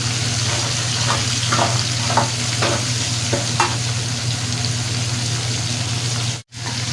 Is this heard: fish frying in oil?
yes